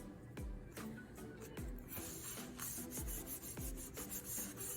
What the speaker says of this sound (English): And smoothing it down so that way there's not any wrinkles on my page.